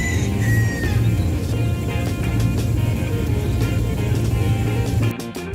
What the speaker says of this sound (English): Roosters are pretty common in Hawaii. This one was in a hotel in Kauai.